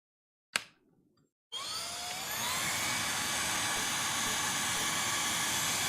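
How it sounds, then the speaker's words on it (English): A vacuum cleaner running right beside the microphone, starting after a short click and then droning loud and steady with a bright whine and hiss that persists throughout. "Vacuum cleaner's a bit louder this time, and it is, again, right by the microphone."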